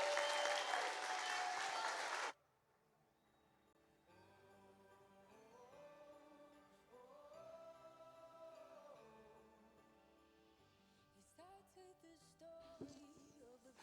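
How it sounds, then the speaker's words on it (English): An audience bursts into loud, dense applause after a Christmas play at a church, lasting about two seconds before stopping sharply, followed by quiet sustained music tones. "Last round of applause"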